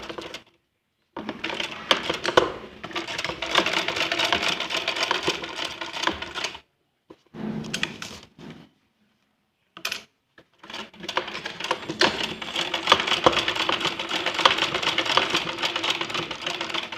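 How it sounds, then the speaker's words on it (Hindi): A sewing machine stitching a small doll's dress for a Laddu Gopal idol, with close rapid mechanical bursts of stitching broken by brief silent pauses. "अब मैं आपको सिलाई लगाती हूँ।"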